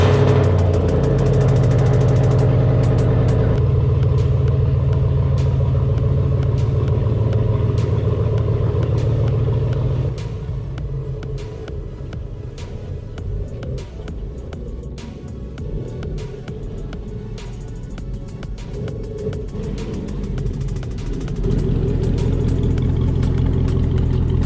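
A lifted, squatted pickup truck's engine runs loud and near, with a rough idle and throttle changes as the vehicle is turned around. The rumble drops back midway, then grows louder again toward the end.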